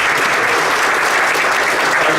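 Dense, steady applause from an audience at a youth celebration honoring an institute's 30 years of community service, filling the whole stretch loudly with no pauses.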